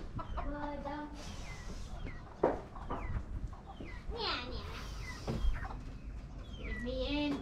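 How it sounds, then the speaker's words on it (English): Chickens cluck and call outdoors on a farm-like spot in Kona, Hawaii, with several short cackling bursts spread through the stretch while people, including a child, talk nearby. "Look at the chicken."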